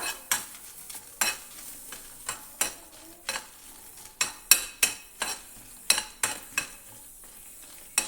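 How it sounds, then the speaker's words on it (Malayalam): Chillies and shallots roast in a pan for Kerala-style prawn chutney, a soft background sizzle punctuated by a dozen or so sharp spatula scrapes and taps against the pan, close and uneven in rhythm. "ഇനി ഇതിലേക്ക് നമ്മൾ എടുത്തു വച്ചിരിക്കുന്ന മുളകും ഉള്ളിയും കൂടെ ഇട്ടിട്ട് ഒന്ന് ചുട്ടതുപോലെ ആക്കിയെടുക്കാം."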